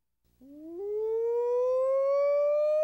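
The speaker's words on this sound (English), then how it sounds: "That's a fire engine." A single fire engine siren wail starts low and climbs steadily in pitch, growing louder and holding a rising, sustained tone.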